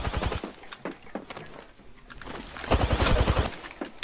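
Video game gunfire from a regular gun during a fight-to-the-death match: scattered shot bursts early, then a louder rapid volley of shots near the end, with brief voice-like fragments in between.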